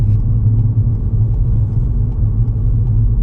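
A learner driver's car cruising along a 30 mph road gives a steady, loud, low engine and road rumble heard from inside the cabin, even and unbroken, with no voices.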